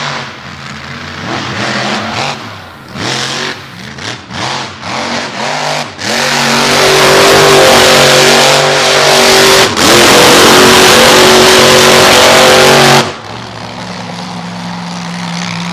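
A truck's engine revs hard in repeated loud bursts during a freestyle wheelie attempt at an all-star championship event, then holds a long sustained roar before cutting back to a rough idle.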